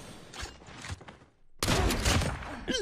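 Gunfire in the mobile shooter Call of Duty Mobile, with a few scattered shots early on, a brief gap and then a loud dense burst of rapid fire near the end.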